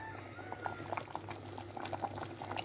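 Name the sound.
beans boiling in lots of water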